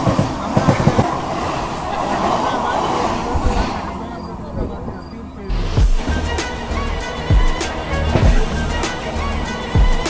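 Amrit Bharat passenger train in poor, worn condition rumbling along rails, a continuous rolling roar with clicking joints, a brief quieter dip midway, and indistinct voices in the background.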